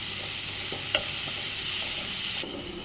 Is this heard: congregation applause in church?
no